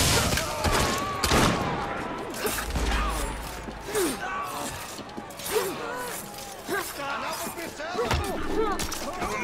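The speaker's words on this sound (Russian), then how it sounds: "Сейчас выстрел." Video game gunfire in Assassin's Creed Syndicate sounds as a string of sharp, irregular shots and impacts over busy game effects, with scattered voices in between.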